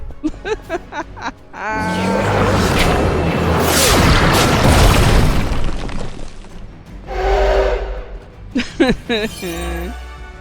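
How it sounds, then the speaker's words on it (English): A loud explosion in the video game Midnight Suns, with a shattering burst that rumbles for several seconds, then a second smaller blast, among sharp impact hits of combat. "Oh, look at the explosion next to him, too."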